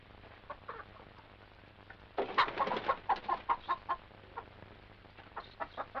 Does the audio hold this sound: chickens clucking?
yes